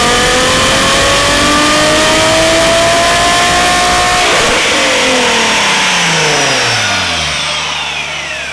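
A Nissan 350Z HR with new cold air intakes on a dyno, loud and close, climbs in a hard sustained rev for about four seconds, then drops steadily back down as the run ends.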